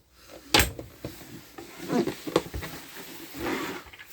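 Soft-close drawers in a Bailey Autograph 81-6 caravan, near the grill pan, giving several soft wooden thuds and slides spaced across a few seconds, close and fairly quiet.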